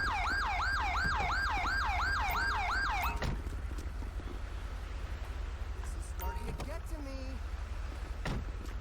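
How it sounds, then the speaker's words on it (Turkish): Wailing police car siren in GTA 5, a loud cycling two-tone whoop repeating steadily for about three seconds before cutting off, leaving engine rumble and faint background noise, with a brief falling tone later. "Şu sireni bir kapatayım ben."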